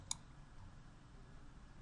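A single sharp computer mouse click, faint and close, sounds once near the start over a quiet room hum.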